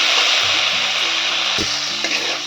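Spice paste with tomato, some ground and some chopped, frying and being stirred in a pan, a steady loud sizzle with occasional scraping knocks of the spoon, close up and without talk.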